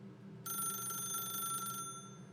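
A telephone rings in The Stanley Parable, one sustained electronic trill lasting over a second, fairly loud above a low background hum.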